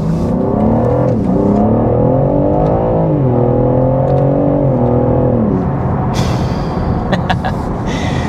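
BMW G80 M3 Competition, 510 horsepower, accelerating hard with a loud, sustained engine note whose pitch rises and falls through the gears, shifting near the end to a rougher whir with brief bursts.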